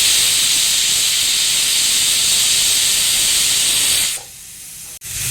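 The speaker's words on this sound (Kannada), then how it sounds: "ಕುಕ್ಕರ್ ಮುಚ್ಚಿ ಗ್ಯಾಸ್ ಹಚ್ಚಿ ಒಂದು 2 ಸೀಟಿ ಬರ್ಸ್ಕೊಳ್ಬೇಕು" Pressure cooker on a gas stove venting steam through its whistle, a loud, steady hiss held for about four seconds before dropping off sharply, followed by a brief quieter release; no talking.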